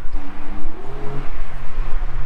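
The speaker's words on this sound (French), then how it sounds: "Petite 992 qui se chauffe ici" A Porsche 992 engine warming up nearby, a steady rumbling idle that rises in a short rev midway and then settles back.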